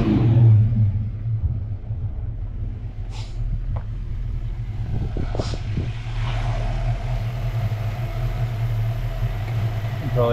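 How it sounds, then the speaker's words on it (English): A 1993 Texas DPS police car's engine idles steadily with a low, continuous rumble, a few brief higher clicks and faint ticks surfacing over the drone. "You can probably watch the injector pulse now."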